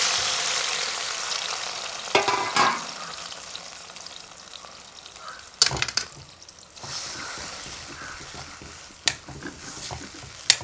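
Ash gourd pieces hit hot ghee for halwa and fry with a steady low sizzle, broken by a few louder clatters and stirring scrapes from a pan; no one speaks.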